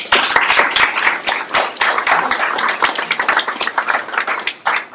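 An audience applauds two speakers at a French talk about chatbots, with crisp close clapping from many hands in a steady patter that stays lively throughout and thins slightly near the end.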